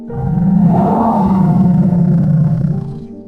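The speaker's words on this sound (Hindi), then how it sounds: "तभी बाघ की आवाज फिर से आती है।" A deep, rumbling tiger roar swells and holds for a few seconds, loud and close, then tapers off.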